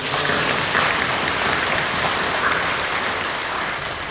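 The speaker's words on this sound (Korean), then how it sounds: "우리 박수로 감사드립니다" A church congregation claps steadily throughout, a dense continuous patter of applause filling the room without any talking.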